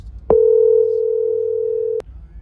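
Through the speakers of a newly installed stereo in a 2014 Jeep Wrangler, a phone call rings out as a single loud, steady tone lasting about two seconds, starting and stopping abruptly inside the cabin.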